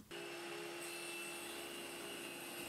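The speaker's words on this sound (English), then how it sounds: "I cut it to size with a table saw" A table saw running steadily through a beech finger joint board, a continuous broadband whine with a sustained tone, loud and close, alone without talk.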